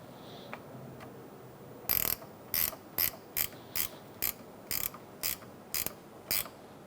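A ratchet tightens the negative battery terminal nut on a 2002-2006 Toyota Camry, a string of about eleven short, crisp clicking bursts at a steady pace, close and clear against a quiet background.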